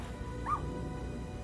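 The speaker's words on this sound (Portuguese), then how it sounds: "Ele latiu pra mim." A dog in the Little Misfortune video game gives one short, high yip or bark midway through, set against a steady low background hum.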